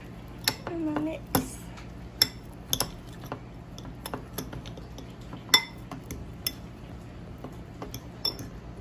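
A utensil mixing chamoy gummy bear ingredients in a bowl gives off sparse, irregular clinks and taps, quiet and close, with pauses between strokes.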